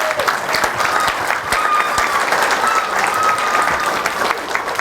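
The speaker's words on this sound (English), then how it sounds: "Round of applause." Sustained applause fills a ribbon-cutting ceremony for a kindergarten center as two men are honored, steady dense clapping throughout with faint crowd murmur.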